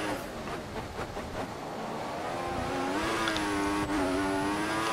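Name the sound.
Formula 1 car engine in the F1 2014 racing video game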